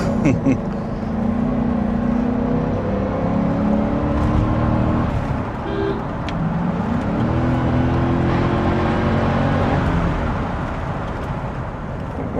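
Mercedes-Benz SEL on large 15-inch tyres driving and accelerating, engine rising and falling through several revving sweeps, close and loud from the cabin, with faint talk at times.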